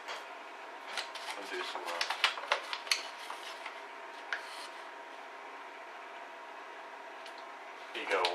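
Flour being scooped out of a bowl in a home kitchen while weighing it for bread: soft, close scraping and rustling with a few light clinks, quiet and intermittent, then easing off.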